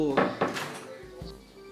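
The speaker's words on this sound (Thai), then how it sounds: "เปิดประตู" A household door opens with a couple of sharp wooden knocks and a latch-like clunk, close by and brief, and a voice is faintly present.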